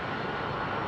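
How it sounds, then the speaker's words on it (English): An Emirates Airbus A380 jet on approach at London Heathrow gives a steady, even engine roar that fills the whole short stretch, with no talk over it. "I'm guessing this is an Emirates 380 on approach."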